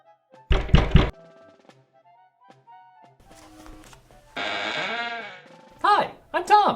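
Knocking at a front door indoors, a few short loud thumps at the start, followed by quieter sounds and a voice-like bleating cry later in the clip.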